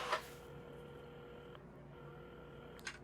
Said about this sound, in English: at the counter, Carmen had started dialing the phone